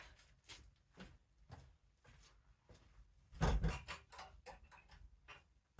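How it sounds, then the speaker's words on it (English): A door latch is slid into place at night inside a house, giving a few sharp knocks and metallic clicks, with a louder clunk near the middle, amid quiet room noise. "Now, you heard me put the latch on the door there."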